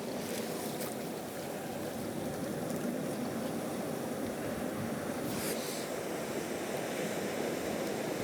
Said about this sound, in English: the movement of the waves through this little gully in between these rocks is really nice